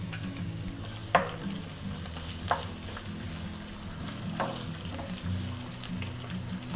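Chopped onions sauté in a pan for an Italian Swiss chard and beans dish. A steady, soft sizzle runs throughout, and a few sharp utensil clicks come through on top of it. No voices are heard.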